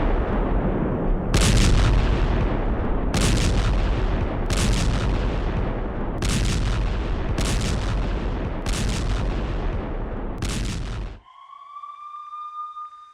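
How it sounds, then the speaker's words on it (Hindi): Israeli tank fire in Gaza: seven heavy booming blasts at irregular intervals over a constant loud rumbling background, ending abruptly in a quieter stretch with a thin high-pitched tone. "देखिए टैंकों के जरिए कैसे IDF यानी इजरायली डिफेंस फोर्सेस हमला कर रही हैं"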